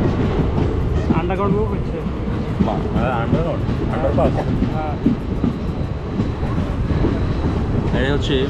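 Sealdah–Lalgola passenger train running between Beldanga and Jiaganj, heard from on board: continuous loud rumble and rattle of the carriages with faint clicks, while people talk in the background.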